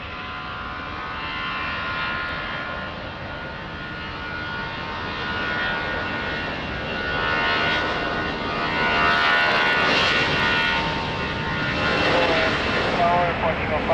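A jet airliner at Lisbon Airport roars steadily through a landing or departure, a loud sustained engine drone that swells slightly toward the end, with faint voices beneath.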